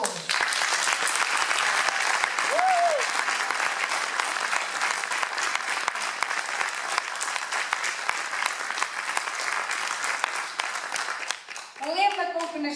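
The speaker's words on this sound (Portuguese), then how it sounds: "peça uma grande salva de palmas para todos" Sustained applause fills the hall at a Rotary charity musical gala in Valpaços, loud and continuous, with a voice rising briefly near the end as the clapping continues.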